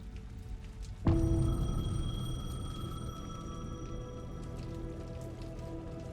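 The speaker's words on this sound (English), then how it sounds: "The payphone was ringing." A payphone rings out in the rain in the Alan Wake 2 video game, a sudden loud electronic ring with sustained tonal overtones over a steady bed of rainfall, fading slowly while the rain continues.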